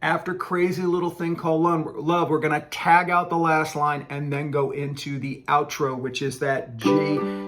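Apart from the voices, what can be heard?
No everyday noise stands out behind the speech.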